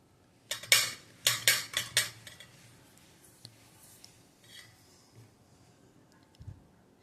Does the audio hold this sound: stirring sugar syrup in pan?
yes